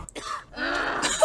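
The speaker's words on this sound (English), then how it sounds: "He just coughed." A single short cough-like burst from a voice, more a throat-clearing rasp than a full cough, heard alone with no speech around it.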